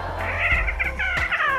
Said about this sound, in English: She is our fluffiest and biggest cat.